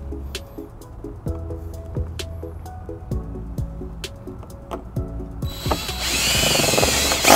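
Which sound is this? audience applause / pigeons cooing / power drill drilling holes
power drill drilling holes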